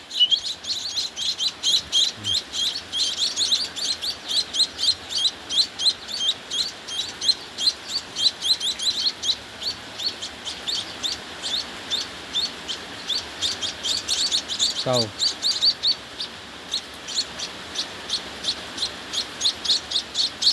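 Baby myna birds chirp rapidly and persistently while being hand-fed a mash of Cerelac and chick booster, a dense, close run of high tweets with brief pauses, no talking.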